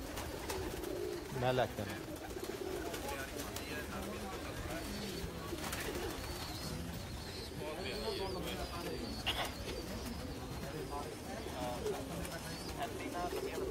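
Pigeons coo continuously at a pigeon loft, soft and steady under someone speaking throughout, with a few brief chirps mixed in.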